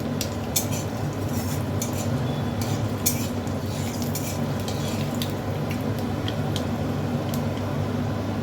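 Dry red chillies and nigella seeds stirred in hot mustard oil give a continuous close sizzle dotted with light clinks and scrapes of a spatula against the pan.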